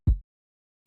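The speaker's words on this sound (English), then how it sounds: "Now the main kick here is this one, and it sounds like this." A single main kick drum sample from an FL Studio seben beat: one deep, booming low thump that decays quickly, then silence, heard alone.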